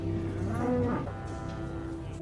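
Cattle on a cattle farm lowing, with one clear drawn-out moo rising and falling over a steady background drone, fairly close and with no talking.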